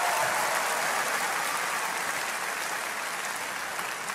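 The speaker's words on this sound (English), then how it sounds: "Can we just give a hand clap for that?" An audience claps in a university hall, a dense and sustained round of applause that fades slightly toward the end, with no talking over it.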